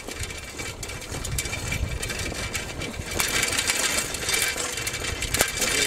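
A vehicle engine idles steadily outdoors beside vegetable gardens in July, a continuous mid-pitched rumble with wind and background noise and no talking.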